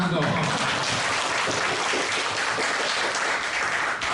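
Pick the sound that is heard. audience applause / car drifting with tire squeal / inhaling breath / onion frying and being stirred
audience applause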